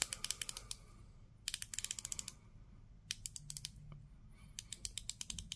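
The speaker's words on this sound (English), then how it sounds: "It has a rotating bezel." The rotating bezel of a Tissot PRS200 quartz chronograph watch is turned in quick bursts of crisp, close clicks, each run a rapid string of evenly spaced detents separated by short pauses.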